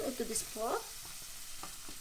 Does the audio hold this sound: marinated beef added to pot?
yes